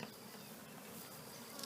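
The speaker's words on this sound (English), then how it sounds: "now he's got bees inside of here still" Bees inside a backyard hive box being checked and fed sugar water give off a continuous soft buzzing hum, steady and close, with no voices.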